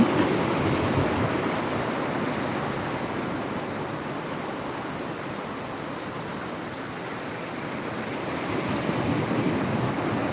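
Ocean surf at Pudimadaka beach rolls in as a broad, steady wash of noise with gentle swells in loudness, mixed with wind buffeting on the microphone and no voices.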